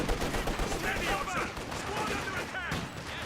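Company of Heroes 2 battle gunfire, a steady crackle of rifle and machine-gun bursts layered with distant explosions, continuous and dense throughout, with a commentator talking over it.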